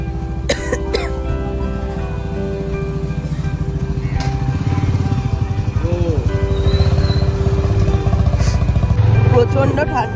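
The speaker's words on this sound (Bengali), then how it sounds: "আমরা বাইক আর শান স্কুটার নিয়ে এখন আমরা রওনা দিচ্ছি" A motorbike and a scooter ride off on a cold, windy morning, the engine chugging steadily and close throughout, with a voice talking over it and brief throaty coughs near the start.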